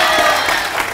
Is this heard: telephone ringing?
no